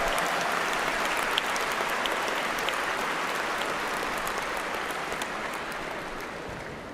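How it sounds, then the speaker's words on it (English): Applause from a commencement audience for a professor at a university graduation ceremony: dense, sustained clapping that fills a large hall and slowly fades over seven seconds. "how about a big round of applause for Professor John Strada?"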